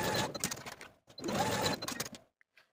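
A sewing machine runs in two close bursts, stitching the shoulder seams of a dress facing, each burst a quick mechanical clatter with a short pause between, ending in near silence with a faint click.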